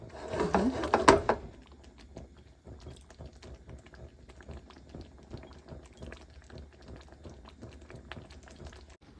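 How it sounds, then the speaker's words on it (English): Soft, steady bubbling and popping of duck curry with coconut milk simmering in a pot, low and continuous after a brief louder clatter at the start. "See the boiling."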